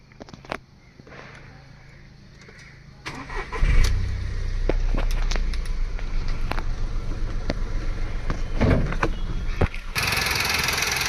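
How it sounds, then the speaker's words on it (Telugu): A 2010 Volkswagen Polo engine cranks and starts after a few light clicks, then settles into a steady close idle hum with occasional knocks and taps over it. "సరే ఇంజన్ కండిషన్ చూపిస్తాను. ఇంజన్ కండిషన్ చూడండి."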